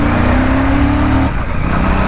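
A Royal Enfield Classic 650 parallel-twin motorcycle engine pulls in second gear, giving a loud, steady, close-up drone with wind rush over it and no break in the sound.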